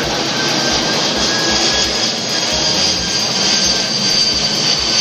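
Jet fighter engine roaring at a Grand Prix air display, a loud sustained broadband roar with a steady whine, continuous throughout and no talk.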